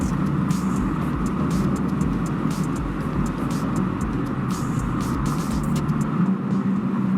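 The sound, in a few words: BMW M4 Competition xDrive Convertible driving on highway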